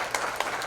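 Audience clapping at a gala, a brief, steady wash of applause with a few sharper bursts, heard from within the room.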